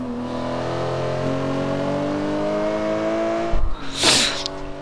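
Bugatti EB110 engine in a video game, holding a loud steady rising drone while driving, then a shift with a sharp burst of tire or turbo hiss near the end, no speech.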